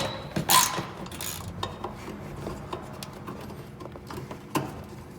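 A ratchet clicks as a 10mm bolt is tightened on the bumper of a 2005-2010 Chrysler 300 during headlight replacement, sharp metallic bursts and short clicking runs up close with no talking.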